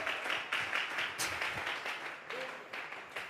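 A congregation at a Sunday church service claps their hands in a quick, rhythmic run of bursts, moderately loud and a little distant.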